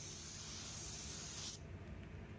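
A spray gun lays a coat of red paint onto a test sample with a loud, steady hiss that stops abruptly after about a second and a half, leaving quiet background.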